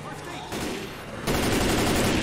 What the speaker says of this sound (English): Try to shoot around the barricade.